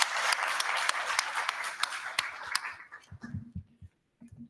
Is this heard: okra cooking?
no